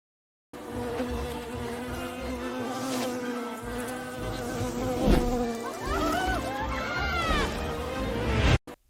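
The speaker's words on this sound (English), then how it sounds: "the camera follows a bee through the scene" A bee in an AI-generated animation buzzes continuously and up close. The drone wavers in pitch as it moves, with a few brief thuds and a sharp swell near the end.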